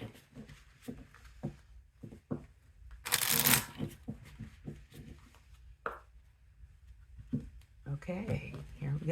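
Tarot cards shuffled for a reading, a burst of riffling and soft card taps mostly in the middle of the stretch, with quiet patches and a faint voice or two around it.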